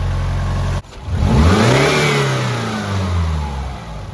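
A 2008 Subaru Outback engine with a freshly repaired clutch and throw-out bearing idles, cuts briefly, then revs up strongly and settles into a rising and falling drone, loud and close with no talk.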